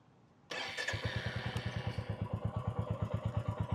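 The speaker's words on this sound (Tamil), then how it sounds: "ஸோ வண்டி இப்போ நான் ஸ்டார்ட் பண்ணுறேன்." A 2026 Royal Enfield Classic 350 with its J-series engine starts abruptly close by, then settles into a steady, even thumping idle with a rapid regular pulse.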